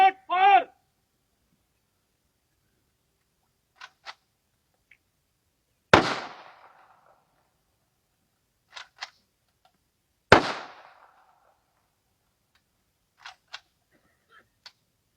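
Single sharp rifle shots ring out one at a time with long pauses between them, a gun salute at the funeral of a CRPF soldier, alongside brief spoken commands.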